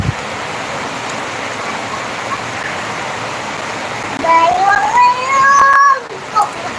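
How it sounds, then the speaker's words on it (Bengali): Heavy rain falling in a steady loud roar, with a voice and an adult talking over it toward the end. "অনেক বৃষ্টি পড়ছে"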